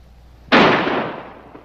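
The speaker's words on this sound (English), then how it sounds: "If you keep firing, they'll have to fire back." A single sharp gunshot rings out close and loud, its blast decaying over about a second, in a police standoff with an armed man.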